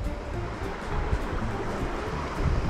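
River water near Ensenada, a few minutes from Puerto Varas, flows with a close, steady broadband rush that holds even throughout with no voices.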